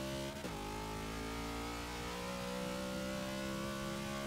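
A race car launches hard in Forza 6, the engine note holding a steady, loud, high whine as it pulls away, with no talk over it.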